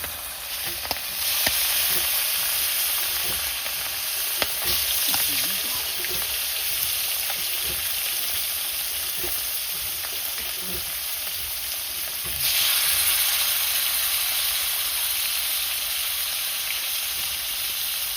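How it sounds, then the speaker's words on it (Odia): Potatoes frying in a pan for a village-style fish fry curry, a steady loud sizzle with occasional crackles and stirring scrapes, continuous and close throughout, with no talking. "ଖାଲି ଆଳୁଟା ଆମର ଟିକେ ଭଜା ହେଇଯାଉ ତାପରେ ତରକାରୀଟା ହେବ"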